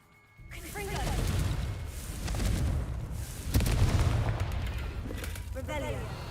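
A Confringo fire-spell blast in the Hogwarts Legacy video game: booming explosive bursts with crackling impacts and a sharp burst midway, loud and continuous over game ambience.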